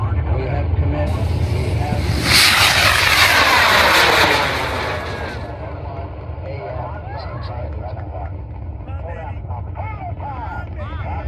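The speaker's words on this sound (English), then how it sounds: "We have ignition sequence start. The engines are on." Engines of a 1/25 scale Saturn V model rocket roar at ignition, a loud broadband rush that swells quickly, holds for a few seconds, then drops to a steady rumble under crowd voices.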